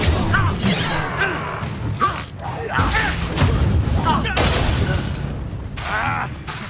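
Confringo spell blasts in the Hogwarts Legacy video game, repeated shattering bursts and thuds amid chaotic combat effects, with a voice talking over the action throughout.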